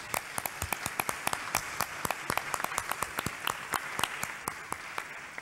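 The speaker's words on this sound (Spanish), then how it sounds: "Y aquí en el santuario le damos un aplauso a los que nos visitan hoy también" A congregation in a church sanctuary during Mass gives a round of applause, scattered distinct hand claps over a soft hall ambience, fairly faint and distant.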